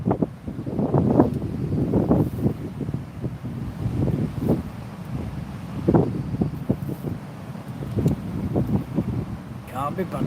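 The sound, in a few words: wind blowing while fishing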